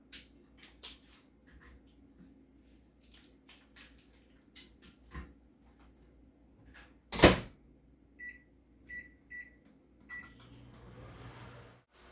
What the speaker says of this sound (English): We're going to pop it in the microwave